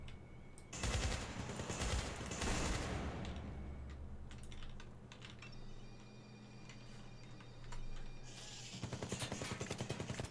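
Rapid automatic gunfire in the shooter Syndicate, bursts of fast rhythmic shots at the start and end with quieter mechanical ticking and clatter between, moderately close.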